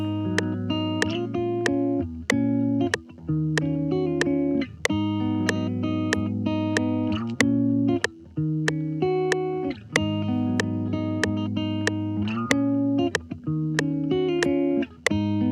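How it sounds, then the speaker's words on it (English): An electric guitar plays an Afro swing chordal riff alone, with strummed chords sustaining and briefly cutting off in a repeating rhythmic pattern. "I love the way the guitar is sounding"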